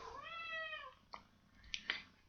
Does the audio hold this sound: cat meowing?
yes